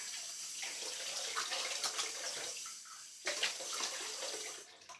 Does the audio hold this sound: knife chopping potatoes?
no